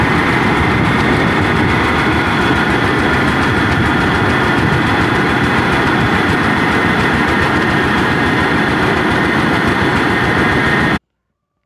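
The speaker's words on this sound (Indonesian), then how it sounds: "sebuah mobil yang dimodifikasi dengan mesin penggiling padi" A modified vehicle fitted with a mobile rice milling machine runs its engine loudly and up close, a dense steady roar and clatter that holds constant before cutting off abruptly, with no talk.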